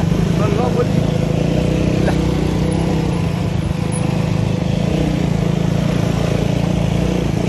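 A motorcycle engine drones steadily and loudly up close while the bike labours along a rough, dangerous road, a continuous rattly hum with no break.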